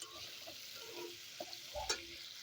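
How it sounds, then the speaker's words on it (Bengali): Paneer pieces fry and get stirred in hot oil in a wok, a soft low sizzle with a few scrapes and clinks near the end, no talking. "কড়াইয়ের তেলটা গরম হয়ে গেলে একে একে আমি পনিরগুলো সব দিয়ে দেবো।"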